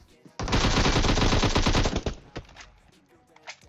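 Sustained automatic gunfire spray in PUBG Mobile, a loud dense burst of rapid shots lasting well over a second, then a few scattered single shots and softer game sounds trailing off.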